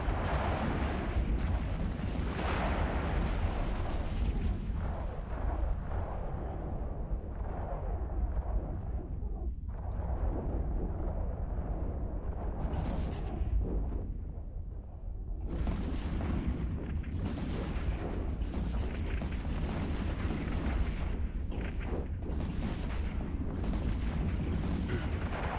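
Ships' weapons fire continuously during a space battle in EVE Online: dense, rumbling volleys of booms and bursts overlap in a loud, unbroken barrage, with a brief dip midway before the firing picks up again.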